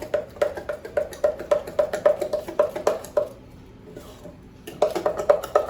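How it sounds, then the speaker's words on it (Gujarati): Handvo batter with coarse wheat flour being mixed in a bowl, a rhythmic run of close clinking strokes of a spoon against the vessel that pauses briefly and then resumes, with no voices. "અને ખીરાને મિક્સ કરી લો"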